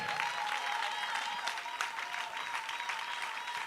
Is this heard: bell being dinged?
no